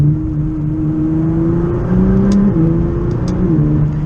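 A Nissan GT-R in race mode accelerates hard after a paddle shift. The loud engine drone climbs in pitch and steps down briefly at each quick gear change, with faint clicks above the steady roar.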